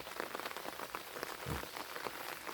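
Steady light rain patters on plants and soil in a vegetable garden, a soft continuous hiss of drops with a few closer splats, faint and even throughout.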